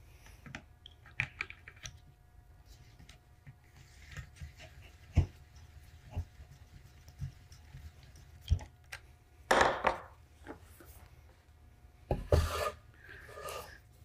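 A Triton TMNRTR trim router plunging into wood, heard as scattered rasping and tapping bursts with a few louder sustained cutting passes near the end, fairly close and without talk.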